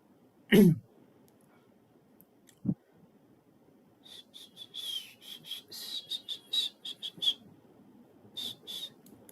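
A man tries to whistle during an online college chess match: a sharp breathy burst first, then a string of short, weak, airy whistle attempts in uneven bursts, near and moderately loud.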